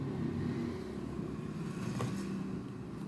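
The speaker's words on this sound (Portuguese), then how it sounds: "Barulho dos carros, né," Steady rumble of road traffic as cars pass on a street, a continuous low engine and tyre wash at moderate distance with a brief swell near the middle, no voices.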